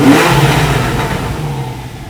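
Porsche 911 991.1 Targa 4S with its naturally aspirated 3.8-litre flat-six, Chrono Sport Plus and sport mode engaged, revs hard in one loud, close, sustained snarl that eases slightly toward the end, with no talking.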